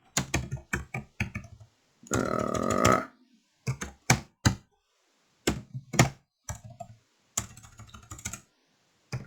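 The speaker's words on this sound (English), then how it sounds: "Past couple of days, I've had a rough time typing." Someone types on a computer keyboard in close, irregular bursts of sharp clicks and thunks separated by short pauses, with one denser rattling burst early on.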